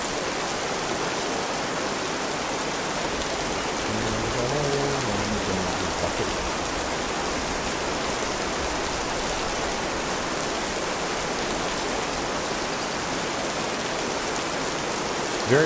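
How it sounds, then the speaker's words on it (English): Steady rain pours in the survival game This Land is My Land, a dense continuous hiss with no clear breaks, fairly loud throughout and briefly joined by a faint low tone near the middle. "Rain, water everywhere."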